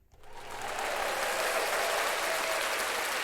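Applause from a soundboard sound effect starts abruptly and swells within half a second into dense, steady clapping from a crowd, continuing at an even level.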